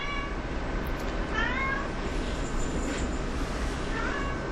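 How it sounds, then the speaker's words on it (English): A pet cat meows several times, short rising calls over a steady hum of room noise, near and clear with no talking. "What are you meowing about?"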